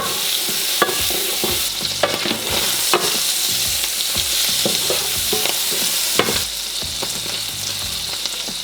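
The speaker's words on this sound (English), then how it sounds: "Let the butter sizzle till it's completely melted and bath the halloumi in it for a minute." Butter sizzling and frying steadily around halloumi cheese in a hot pan, a continuous crackle with frequent sharp scraping and stirring clicks throughout, close and alone.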